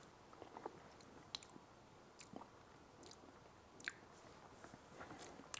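Someone tasting a tomato emulsion, with soft, faint, close chewing and wet smacking sounds, a few small bites spaced irregularly in a quiet room.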